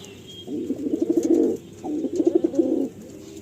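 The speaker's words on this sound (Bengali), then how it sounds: "এত সুন্দর সুন্দর পায়রাই লফটে আছে" Pigeons coo in a loft in Chennai that keeps Andhra, Malwai and Madrasi high-flying breeds: two close, throaty bursts of rolling coos, each about a second long, separated by a short pause.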